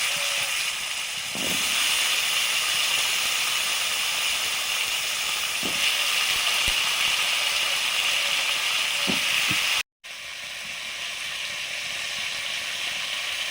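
Tangy fish curry broth with raw mango, sweet potato and green chillies bubbles in a pot, a steady close hiss of boiling with occasional soft knocks, cut briefly by a short gap.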